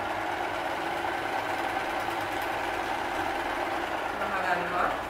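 A sewing machine hums and rattles steadily while stitching a white dress, a continuous mechanical whirr heard close up, with a voice talking over it.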